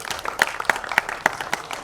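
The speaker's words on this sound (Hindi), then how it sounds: "प्लीज जोर से तालियां बजाएं।" Applause at an album launch event, crowd clapping with a few sharp claps standing out in a loose rhythm, moderately loud.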